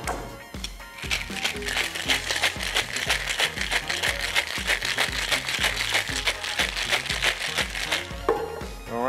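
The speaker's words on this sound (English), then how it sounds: "You can hear it kind of fizzling away in the background." Champagne topped with limonada fizzing in a glass, giving a dense, steady crackle of popping bubbles up close, with occasional faint sounds in the background.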